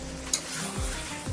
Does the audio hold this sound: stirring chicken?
yes